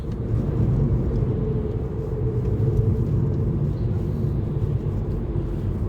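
A car driving on the road, heard from inside as a steady, loud, low rumble and drone that stays constant throughout with no voices.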